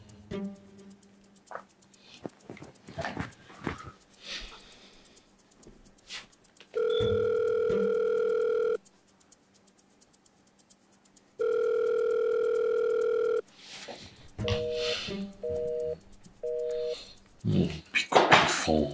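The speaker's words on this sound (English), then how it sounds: "Pick up the phone." Telephone ringback tone during an outgoing call: two long steady tone bursts, then a short series of quick beeps, loud and close, amid scattered background noises and brief rustling.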